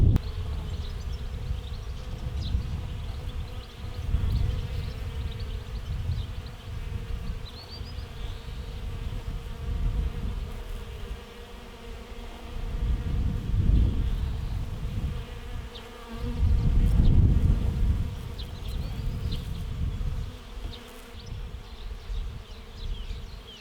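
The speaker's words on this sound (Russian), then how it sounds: "Но все равно пчелки сюда летают." Bees buzz steadily around a patch of flowering phacelia in a garden, a close, continuous insect drone that swells louder in several stretches, with no talking.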